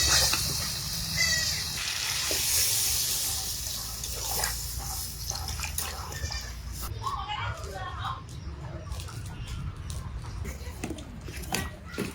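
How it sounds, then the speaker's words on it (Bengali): Water poured into a pan of simmering curry gravy, a rushing splash that settles into bubbling and dripping while a person talks over it. "এখন ঝোলে জল দিব।"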